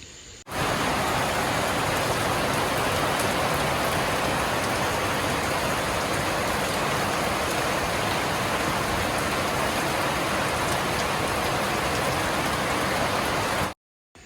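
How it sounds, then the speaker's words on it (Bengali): Steady, dense rain falls outside a home kitchen, a continuous broadband wash of drops on surfaces that starts abruptly and holds at constant loudness for about thirteen seconds before cutting off. "তো দেখেন বাইরে তো বৃষ্টি হচ্ছে"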